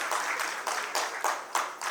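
Audience clapping at an auto retail and GST business event in Rajasthan: a modest round of applause from a smallish room, moderately loud, arriving in several short surging waves over two seconds, with no speech.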